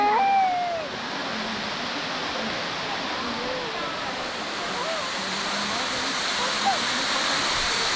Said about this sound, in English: ये वाटरफॉल मेरे पीछे देख सकते हो आप, this is called GB waterfall.